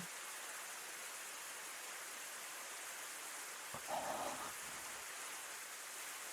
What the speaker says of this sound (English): Rain pours addictively from the sky